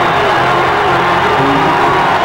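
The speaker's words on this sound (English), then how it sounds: "and the crowd gets louder." A 1986 college basketball crowd at a Tulsa Golden Hurricane versus Bradley Braves game roars with a dense, loud, sustained cheer full of whoops and shouts.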